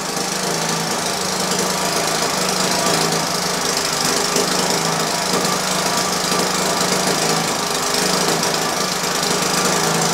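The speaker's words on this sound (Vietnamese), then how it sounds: "ở đây máy nổ nó rất là ồn" A loud engine-driven generator runs steadily at a house during a housewarming gathering in rainy weather, its dense mechanical drone and knocking rumble continuous and close throughout, with no talk over it.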